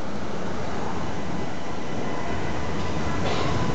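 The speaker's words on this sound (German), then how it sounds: "Und Abfahrt eines EVAC-B-Wagens." A tram pulls away from Mülheim an der Ruhr main station, a loud continuous rumble of wheels and motor that swells slightly toward the end.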